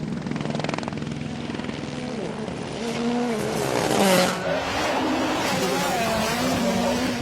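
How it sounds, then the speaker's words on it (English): A helicopter hovers over a WRC rally stage, its steady rotor and engine drone filling the clip and swelling loudly around the middle before holding at a constant roar. "Oh, they got the helicopter too."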